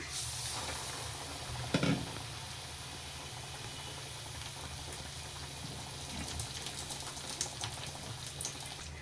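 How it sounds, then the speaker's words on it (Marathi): Vada dropped into hot oil in a small kadhai for homemade vada pav, a steady faint sizzle and bubbling frying throughout with a brief splash near the start. "तर आता हे वडा आपण त्याच्यात सोडून देऊ"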